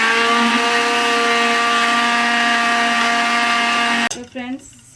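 A mixer grinder whirs loudly and steadily as it blends green coriander chutney with a little water, a constant motor drone that cuts off abruptly near the end, leaving a brief clatter.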